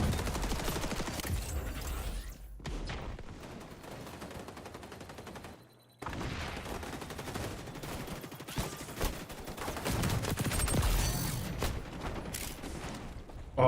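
Dense, continuous gunfire fills the video game XDefiant as shots are fired at a turret. The bursts are loud and rapid, with one brief gap, and no speech is heard.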